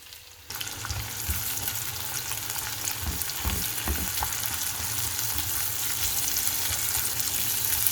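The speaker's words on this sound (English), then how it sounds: "Now we're going to add our onions in." Onions hit hot mustard oil in a pan and burst into a loud, close sizzle that continues steadily, with occasional stirring noises and no talking.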